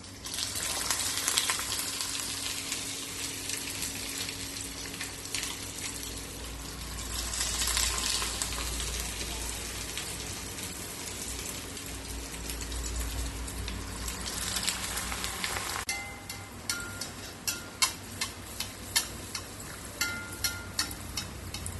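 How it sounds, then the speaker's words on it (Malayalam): Batter-coated puffed rice balls fry in hot coconut oil with a steady, close crackling sizzle that swells and eases, ending in sharper popping spatters. "ഇനി നേരത്തെ റെഡിയാക്കി വെച്ച ബോള് ഓരോന്നോരോന്നായി എടുത്ത് റെഡിയാക്കി വെച്ച മാവിൽ മുക്കി ചൂടായ എണ്ണയിലേക്കിട്ട് പൊരിച്ചെടുക്കാം"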